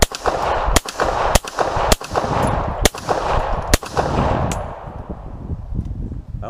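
Rapid gunshots fired at steel rim targets on an outdoor shooting range, about seven loud sharp cracks in an uneven rhythm over a continuous rumbling background, then the firing stops.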